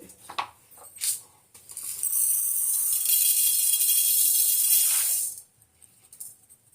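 Toor dal poured into a small tumbler in a home kitchen, making a steady dry rustling hiss of grains for about three seconds, with a few light clinks before and after.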